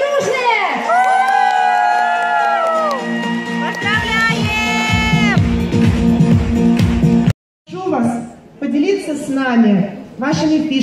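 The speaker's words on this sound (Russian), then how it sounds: "Наши аплодисменты." Audience at a ceremony honouring new gold-level directors breaks into loud, sustained cheering and whooping with applause, high shouts rising over the crowd noise, a brief drop near the end, then renewed cheers.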